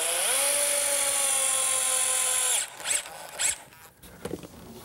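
A 2-inch galvanized bugle head screw driven into cedar legs: a power driver whines with a rising pitch for over two seconds, then stops, followed by a few short knocks and clicks.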